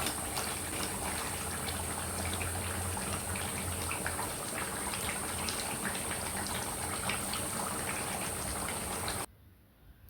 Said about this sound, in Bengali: আমি একটু গরম পানি অ্যাড করে দিলাম, এটাই সিদ্ধ হয়ে যাবে